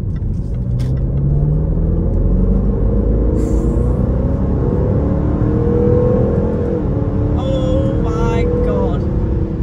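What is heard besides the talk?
V8 Range Rover engine accelerating during test drive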